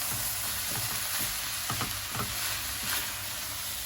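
Chard sautés in a pot with a steady, bright sizzle, while a utensil stirs through it in several soft scraping strokes, close up and with no talk.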